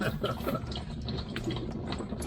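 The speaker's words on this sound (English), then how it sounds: "It's splashing everywhere." Transmission fluid splashes and drips from the pan of a Range Rover Sport L320 during a transmission service, a faint, continuous liquid patter with no clear talk over it.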